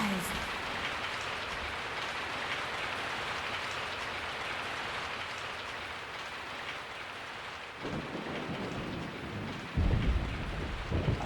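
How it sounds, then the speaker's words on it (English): Falling rain and rolling thunder in the video game Resident Evil 3, a steady hiss of rainfall throughout with low thunder rumbles swelling near the end and faint voices beneath. "I woke up to the sound of falling rain."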